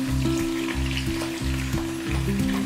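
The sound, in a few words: sprats frying in oil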